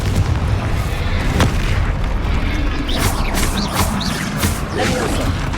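Heavy booming blasts of a Confringo fire spell exploding in Hogwarts Legacy, deep rumbling impacts with crackling debris over a dense battle background, loud and close.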